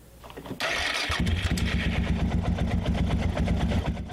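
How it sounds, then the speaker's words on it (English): Motorcycle engine starting and running with the choke fully off while its carburetor needs tuning; a loud catch after a brief crank, then a steady, slightly uneven close idle with no voices. "I turned the choke all the way off, and the bike wants to die"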